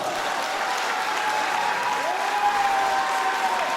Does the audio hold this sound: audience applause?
yes